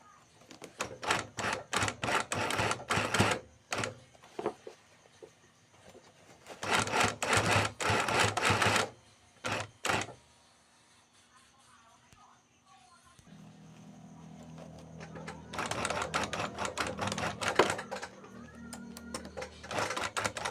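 A sewing machine stitches a bag lining in three loud, rapid runs, with quiet gaps between them and a low hum under the last run.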